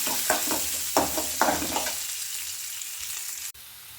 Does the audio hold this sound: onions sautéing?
yes